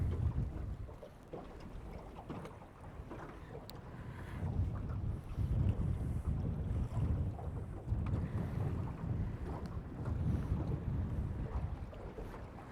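Gusting wind buffets the microphone on an outdoor sea fishing trip, a loud, uneven low rumble that swells and fades in waves throughout with no talking.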